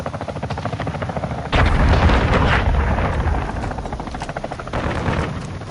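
Chopper gunner helicopter in a Call of Duty–style shooter: a rapid rotor chop pulses throughout, then heavy sustained gunfire and explosive blasts erupt on top, loud and close, with no talk.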